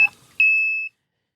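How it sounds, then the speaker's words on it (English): A small alarm device on a reef aquarium controller sounds a clear electronic beep, a short chirp followed by one sustained half-second tone that cuts off cleanly, close and alone. "So there's the alarm beeping away."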